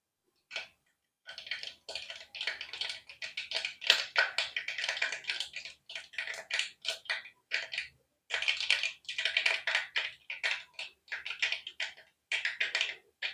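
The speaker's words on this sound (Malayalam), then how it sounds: "കടുകെല്ലാം പൊട്ടി" Rapid crackling pops of mustard seeds bursting in hot oil, arriving in dense clusters separated by brief pauses, fairly close.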